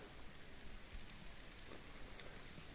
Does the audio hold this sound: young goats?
no